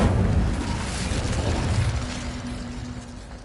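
A fiery Incendio spell cast in the Hogwarts Legacy video game, a loud whooshing burst with rumbling low roar that fades gradually over a few seconds, no talking.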